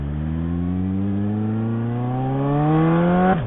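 A motorcycle with its exhaust removed revs hard and alone, its loud, raw engine note climbing steadily in pitch for about three seconds before cutting off abruptly.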